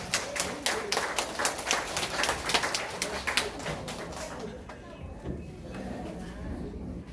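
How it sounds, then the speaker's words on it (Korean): A congregation at a children's worship service claps in a quick, brisk burst of hands that fades out after a few seconds, leaving quieter room murmur. "우리 주님께 영광의 박수 올려드립시다."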